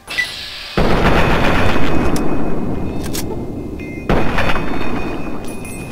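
Gunfire in the video game Fallout 3: a loud, sustained burst of shots from about one second, broken by a short lull, then a second heavy burst at four seconds, with no talk.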